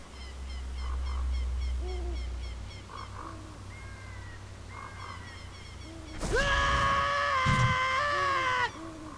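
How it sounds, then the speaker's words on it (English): In The Legend of Zelda: Ocarina of Time, quiet game music with soft hooting notes plays first, then Link lets out a loud, sustained scream lasting a couple of seconds before cutting off abruptly. "That's like the loudest scream Link has in this game"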